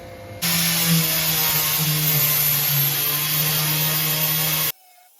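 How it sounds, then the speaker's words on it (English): Metal being cut in a workshop during fuel cell work on a 1963 Studebaker Lark: a loud, steady, high-pitched grinding whine with a low droning hum runs for about four seconds, then stops abruptly. "Just cut some metal out."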